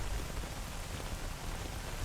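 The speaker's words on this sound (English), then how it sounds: "The rain too makes it incredibly hard" Steady rain falling in the survival shooter game S.T.A.L.K.E.R.: Anomaly, a dense, even hiss of downpour with a low rumbling undertone, unbroken and with no voices.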